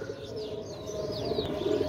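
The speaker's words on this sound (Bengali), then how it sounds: "জোড়া কেটিএম টেডি কবুতর" A pair of KTM teddy pigeons coo softly and continuously at close range, their low throaty calls blending with a few faint chirps and light background hiss.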